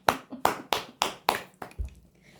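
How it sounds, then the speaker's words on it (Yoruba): Applause for a student during a Yoruba counting lesson: a short, steady burst of about six crisp hand claps, close and clear, fading out at the end. "Ẹ pàtẹ́wọ́ bá kẹ́kọ̀ọ́."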